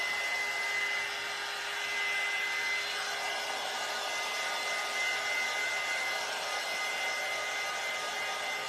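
A hair dryer blows steadily at close range to dry chalk paint on a wooden cutting board, a continuous even whoosh with a faint whine that runs throughout without pause.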